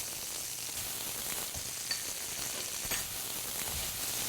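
Beef tenderloin roast sizzling in a pan as it is basted with fat, a steady soft crackle and hiss with faint scattered pops, fairly quiet and even throughout with no talking.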